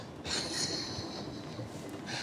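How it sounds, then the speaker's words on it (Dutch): A train passes nearby with a steady broad rumble and a high metallic squeal of wheels running through, continuous and fairly loud, with no talk over it. "Trein."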